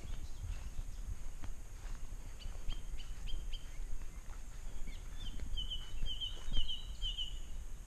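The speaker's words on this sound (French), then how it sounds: "Vous entendez les oiseaux?" Small birds chirp in short, faint bursts outdoors by a vineyard and fig trees, with soft footsteps and quiet rustling under the calls.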